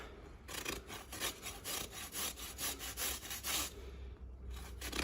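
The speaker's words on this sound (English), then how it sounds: "I am just follow the line of the clefts, carve that out with the corner of my rasp." A farrier's rasp carves along the clefts of a horse's hoof, producing about a dozen rhythmic, close rasping strokes that stop near the end, with no talking.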